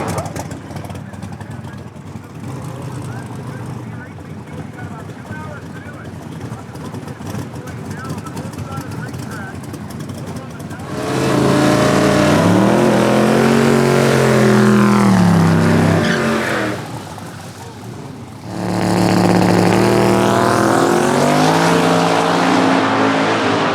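A drag racing car at a Sick Week event launches down the track wheels-up toward the 330 mark, a 7-second, 200-mph pass: after steady background noise, a loud close engine roar climbs in pitch, dips briefly, then roars again.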